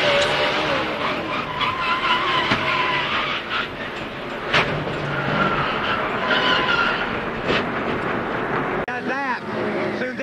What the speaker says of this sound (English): Hard contact on the racetrack.